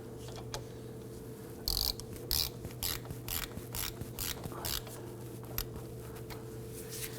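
Ratchet clicking as ball joint bolts on a 2008-2011 Ford Focus front lower control arm are snugged down, with repeated close, short bursts of rapid pawl clicks separated by brief pauses.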